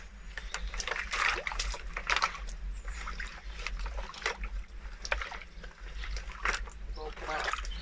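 Beekeeping frames being swilled in a bucket of cold water, with repeated sloshing and splashing bursts close by, mixed with trickling drips against a low steady hum, while a person talks over it.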